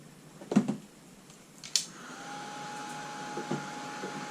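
A couple of clunks, then a low steady electric dryer blower drying paint on a card starts and keeps running quietly, with a faint whine on top.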